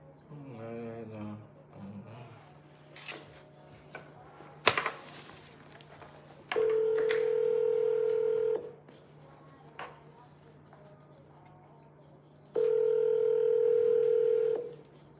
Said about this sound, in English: Smile and dial.